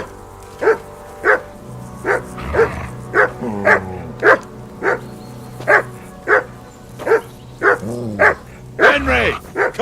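Dog barking in Kingdom Come: Deliverance II, a steady run of single loud barks roughly every half second, with growls and whimpers in between and raised voices underneath.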